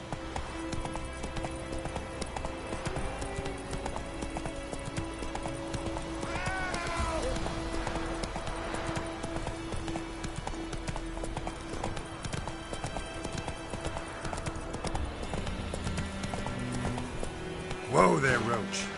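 Roach the horse galloping in The Witcher 3, hooves clip-clopping in a fast steady rhythm throughout, with a brief whinny or snort near the end and game sounds underneath.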